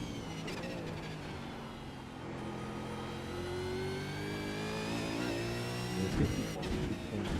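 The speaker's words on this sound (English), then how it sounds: "this white wall is where I start going on the brakes and down the gears" A V8 Supercar in a racing video game at Sandown drones steadily while braking and shifting down gears, its engine pitch sliding. Quick revving blips come near the end.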